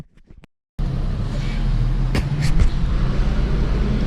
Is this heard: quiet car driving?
yes